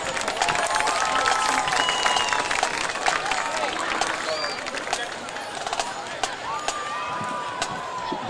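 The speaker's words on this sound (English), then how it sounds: "one more round of applause for the UMS Wright Band." A crowd claps steadily in sustained applause for a school band at a UMS Wright versus Elberta sports event, with scattered cheers and whistles rising over the dense clatter of hands.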